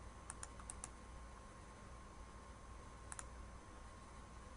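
Keys on a computer keyboard are tapped in two short clusters, quiet close clicks with a pause between them over a soft room hum.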